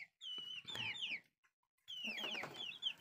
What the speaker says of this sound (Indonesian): ini ayam-ayam eh, ayamnya ibu saya nih